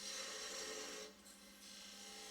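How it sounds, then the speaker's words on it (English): A lathe tool takes bevel-riding relief cuts on the wooden stem of a turned spinning top, a steady close rasping scrape that briefly eases off midway, then resumes without any talk. "Some more relief cuts, again using bevel riding cuts."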